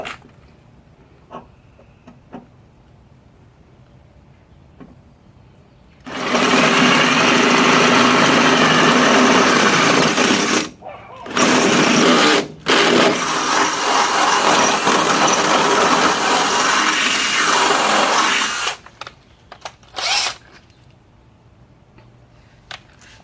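A drill bores through both sides of a sheet metal car fender, a loud, harsh, sustained grinding whir that runs for over ten seconds with brief pauses, preceded and followed by quiet handling noises.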